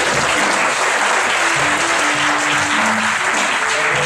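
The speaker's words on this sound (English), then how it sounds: "You can clap for me." Dense, steady audience applause fills the room at a club gathering, a continuous broadband clatter of many hands with faint voices murmuring underneath.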